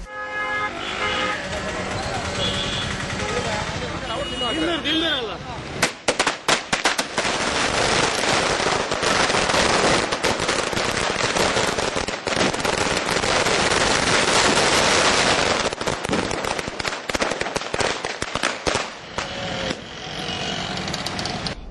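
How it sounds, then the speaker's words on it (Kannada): Party workers set off firecrackers in a political victory celebration, a loud, sustained string of rapid crackling bursts that goes on for many seconds, mixed with car horns, traffic and a crowd's voices, after music at the start. "ಪಕ್ಷದ ಕಾರ್ಯಕರ್ತರು ಪಟಾಕಿ ಬಿಡತದು, ಚೀಪೆ ತೆನಸಪಟ್ಟದು ಸಂಭ್ರಮಾಚರಣೆಯನ್ನು ನಡೆಪಾಯಿರು."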